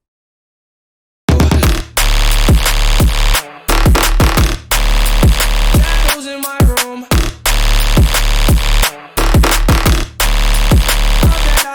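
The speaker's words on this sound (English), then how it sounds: "That is a banging boo sounding stab bass" Jump-up style stab bass built in Xfer Serum with a sub layer, hitting in loud, punchy bursts with short gaps and a brief broken-up break in the middle, dense and full-range throughout.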